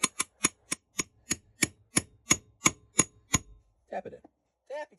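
A pin is tapped into a South Bend lathe part with about a dozen sharp, evenly spaced metallic hammer taps at close range, then a few brief softer knocks.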